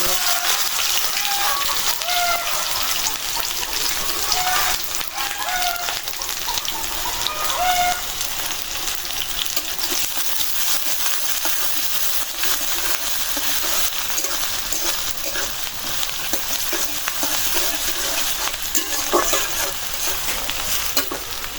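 Food fries in hot mustard oil in a pan, giving a steady, close, rain-like sizzle that continues unbroken throughout with faint crackles and occasional stirring knocks.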